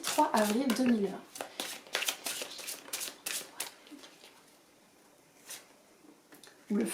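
A deck of tarot cards riffled and shuffled for a reading, a run of quick crisp flutters close by that thins out later, with a voice talking over the first moments.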